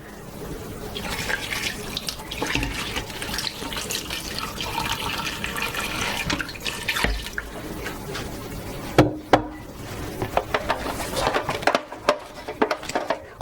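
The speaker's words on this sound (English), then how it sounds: "We're gonna add a little bit of water here." Water pouring into a pot of lamb seasoned with black pepper and salt for Egyptian fattah, a continuous splashing flow with clatter and a few knocks near the end.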